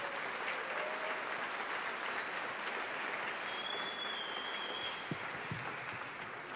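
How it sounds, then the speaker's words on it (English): An audience at the Michigan Ice Fest claps in sustained, even applause that fills the room at moderate level, steady throughout with no talking over it. "A big round of applause, Gravel-sponsored athlete Clint Helander."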